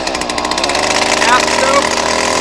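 A string trimmer's small two-stroke engine fires and runs loudly and steadily right up close after being pull-started with the choke set, its buzzing drone continuous throughout.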